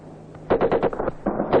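Live gunfire cracks overhead during Ranger combat training in Vietnam, a burst of rapid, loud shots arriving after a quiet moment, pausing briefly, then resuming in a second volley.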